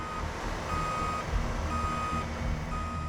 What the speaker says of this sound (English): Then Dylan has to back his truck closer to the edge.